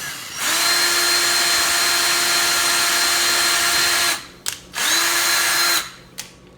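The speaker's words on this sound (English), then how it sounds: "You want to drill a hole straight to the middle." A power drill whirs steadily at high speed, drilling a hole in a DIY screen printing frame, loud and close, stopping briefly with a couple of short bursts before running again.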